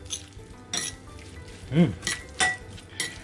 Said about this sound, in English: Pour some sesame oil to taste, and soy sauce a bit. Then mix it.